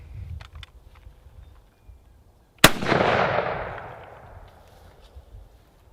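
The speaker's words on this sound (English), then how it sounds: "I'm just gonna shoot the dirt." A single loud military surplus rifle shot is fired into the dirt outdoors, a sharp crack with a long decaying echo, preceded by faint clicks and handling noise.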